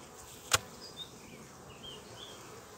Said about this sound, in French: quelques abeilles dans le nourrisseur